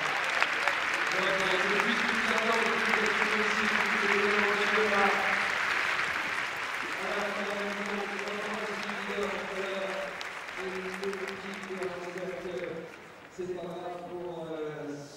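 Audience applause at an international show jumping competition arena, a broad steady clapping from the crowd running throughout, with a commentator talking over it.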